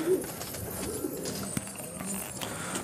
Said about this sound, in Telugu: ఇవన్నీ ఒక తుకుడి పీజియన్స్ అంటారు.